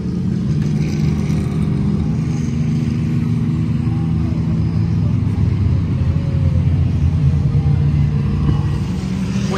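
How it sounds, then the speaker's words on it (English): Race cars at the 12 Hours of Sebring IMSA sports car endurance race pass as a steady, loud engine roar and rumble that stays dense throughout, with faint crowd noise beneath. "There's some race cars."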